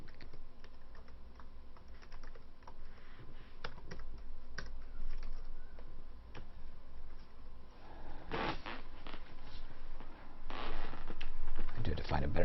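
Rapid clattering keystrokes on a computer keyboard during a Moria gaming session, close and continuous with irregular bursts, heavier clustered clicks near the end, under a faint background hum.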